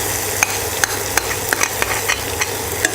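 Tomato masala fries in hot oil for vada curry while a spoon stirs it, a steady close sizzle punctuated by regular scraping clicks of the utensil against the pan.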